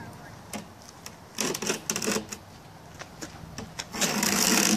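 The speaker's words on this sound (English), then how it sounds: "we actually cut it with a scratcher, kind of a utility knife that we use" A utility knife scratcher scores cement board in repeated short scraping strokes, close and irregular, building to a steadier, harsher rasp at the end.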